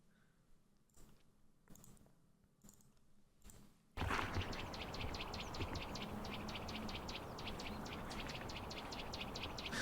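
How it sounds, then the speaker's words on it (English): Loud, constant calling of a bird in a tree, a fast train of sharp repeated notes that starts suddenly and carries on steadily over a busy outdoor background, preceded by a few quieter clicks and taps. "I started hearing this very loud, constant yelling from some bird."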